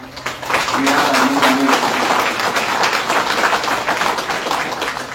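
An audience applauds faculty students at a laboratory inauguration ceremony, with dense, steady clapping that fills the room for about five seconds, while a brief voice or tone sounds in the middle.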